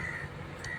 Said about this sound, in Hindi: देखिए दोस्तों, कौवा महाराज जी हमारे फंस गए हैं।